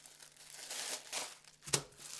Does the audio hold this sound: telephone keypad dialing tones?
no